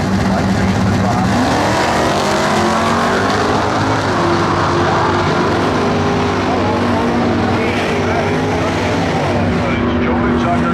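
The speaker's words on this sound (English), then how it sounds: "The Mopar will leave the line first. The 56 Chevy will try to track her down." Drag race launch between a Plymouth Satellite Mopar and a 1956 Chevy at a nostalgia event, loud continuous engine roar with rising revs as the cars pull away, crowd and announcer voices underneath throughout.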